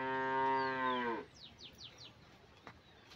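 A single cow gives one long, loud, fairly close moo on a farm, then faint bird chirps follow in the quiet.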